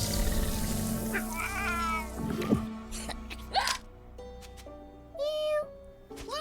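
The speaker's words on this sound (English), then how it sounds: "Hey, Lucy! Bad cat." Lucy the cat meowing several times, drawn-out rising and falling cries, some loud and close, spaced between pauses, with other noises and voices around them.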